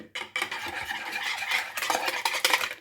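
Rava sponge cake batter is beaten with a whisk, spoon or fork, a quick rhythmic scraping and tapping against the bowl, close and fairly quiet, with no talk.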